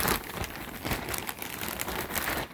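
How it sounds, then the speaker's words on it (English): A plastic mail bag crinkles and rustles close up during an unboxing, a steady run of soft crackling handling noise heard on its own at fairly low volume. "Sorry for the bag noise."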